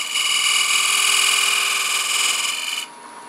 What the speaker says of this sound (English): I'm going to take that point tool and put a tiny little bead right here on the inside